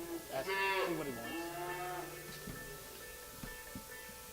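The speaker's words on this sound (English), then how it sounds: "Here's a Rodham cattle, guys." Calves fresh off their mothers at a calf and stocker livestock auction, one giving a loud drawn-out moo that rises and falls, followed by faint shuffling and knocks in a big hall.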